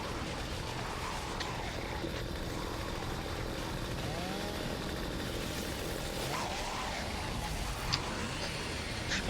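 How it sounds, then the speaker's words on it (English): Chainsaw in a video game sawing through enemies, a continuous buzzing engine whine that holds steady throughout at moderate loudness, with no talk over it. "We'll just chainsaw them instantly."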